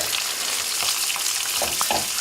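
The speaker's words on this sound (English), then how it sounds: "Let it sizzle away there" Loud, dense sizzling of curry paste frying in a hot pan, a continuous crackling hiss heard up close with no talking.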